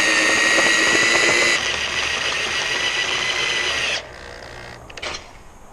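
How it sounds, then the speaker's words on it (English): A power drill bores a hole into a jetski with a loud, steady, droning whine that holds for about four seconds, then drops off, leaving faint rattles and a brief clatter. "Okay, so we've got our hole drilled."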